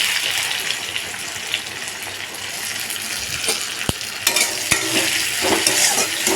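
Chopped onion frying in hot oil in a pan after fish-roe fritters, a steady close sizzle with occasional stirring scrapes and a couple of sharp clicks.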